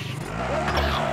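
A car in the Warzone video game driving and skidding, a brief loud engine roar with tire squeal, close and steady with no gaps.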